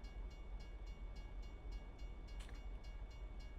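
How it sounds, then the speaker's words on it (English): A train passes in the American Truck Simulator game, a faint low rumble with a regular clickety-clack of wheels over rail joints and a brief brighter squeal near the end. "We got a train."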